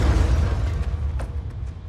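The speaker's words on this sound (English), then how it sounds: "I just chucked 2 grenades into him as well" Grenade blasts in the video game Mortal Kombat 11, a dense, rumbling low boom that rolls on for the whole stretch with a few sharper pops on top, loud and close, with no talking.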